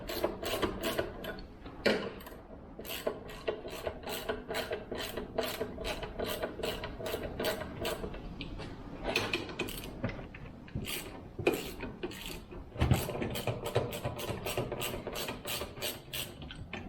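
A ratchet with a 13mm socket turns bolts on a milling chainsaw, giving long runs of quick, crisp, close clicks broken by short pauses and a few scraping rubs.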